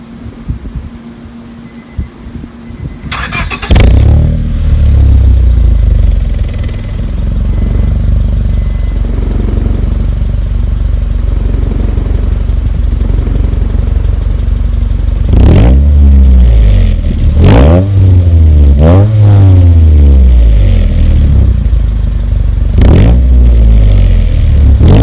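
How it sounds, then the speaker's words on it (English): A 2004 Honda Civic EX coupe fitted with a Magnaflow catback exhaust starts up and settles into a steady idle, then is blipped through several sharp revs near the end, loud and close with no talk. "I'm about to crank up the car and give you some sound clips."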